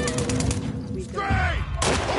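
Bursts of rapid submachine gun fire ring out in The Last of Us Part II, in sharp clustered shots at the start and again at the end, with a voice speaking between them.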